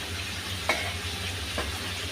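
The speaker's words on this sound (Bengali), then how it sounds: "এদিকে আমি আবার বাঁধাকপি দিয়ে, এই তো 3-4টা ছোট আলু দিয়ে একটু ভাজি করতেছি" Shredded cabbage and a few small potatoes fry in a pan with a continuous soft sizzle, broken by a couple of brief stirring scrapes, heard up close with no voices.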